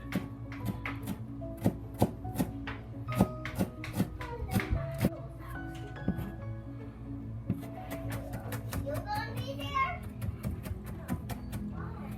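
Ginger cut and chopped with a knife on a cutting board, sharp repeated close knocks in an uneven rhythm, with a person talking over parts of it.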